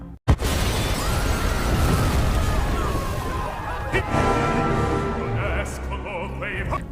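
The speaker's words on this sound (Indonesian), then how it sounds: "bom itu pun meledak" A bomb blast goes off at a hotel as a sharp, loud burst right at the start, followed by a long rumbling, crackling tail with debris-like clatter that slowly fades.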